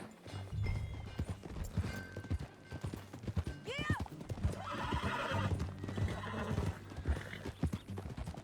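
Hooves clip-clop steadily throughout while a horse lets out a whinny partway through in the video game Red Dead Redemption 2, with a voice briefly speaking over the trotting.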